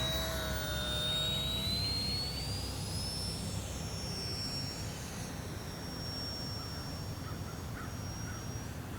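An E-flite UMX Viper 30mm EDF model jet flies a fairly slow pass into a slight headwind, its thin ducted-fan whine rising then sliding down in pitch as it passes at a moderate distance over soft background noise.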